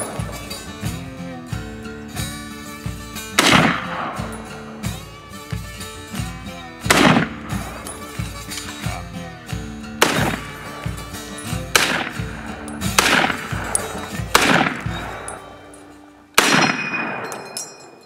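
M1 Garand rifle fired outdoors at a range, about seven loud, well-spaced shots cutting through a steady background tone. The final report is sharp and followed by a brief ringing decay, with no talk.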